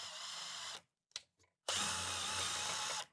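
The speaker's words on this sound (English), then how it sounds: "I'm going to drill that 1/8 inch one more time of where we need that at" A power drill pre-drills a 1/8 inch hole for a screw into a horn mount bracket on a motorcycle hardbag lid, giving two loud, sustained whirring bursts split by a short pause with a few faint clicks.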